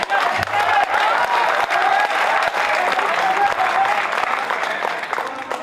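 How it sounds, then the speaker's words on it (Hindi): A crowd at a Teacher's Day celebration and award ceremony claps for a nervous singer, a loud, continuous wash of applause lasting several seconds with faint voices underneath. "तालियां बजा दो भाई के लिए।"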